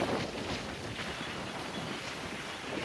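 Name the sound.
storm wind on the sea beach at Puri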